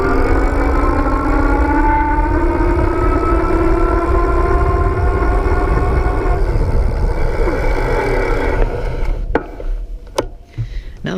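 The motor of an iGO Electric Elite electric bike whines steadily under throttle, with a rising electric tone over road rumble before a few sharp knocks and clatters near the end.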